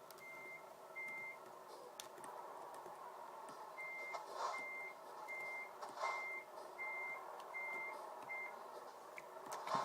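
Reversing beeper on a Volvo FH16 truck backing up to hook a trailer in Euro Truck Simulator 2, steady evenly spaced beeps repeating over a low engine rumble and occasional clunks.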